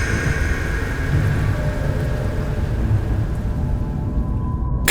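Steady rain pours with low rumbling thunder in the horror game Fears to Fathom: Carson House, a continuous dense hiss at even loudness throughout with no speech.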